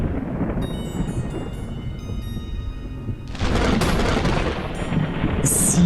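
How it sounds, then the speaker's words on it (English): Thunder rumbles low at night, then a louder crack and roll breaks in partway through and carries on as a heavy, sustained roar. "Thunder roars as the night lights up."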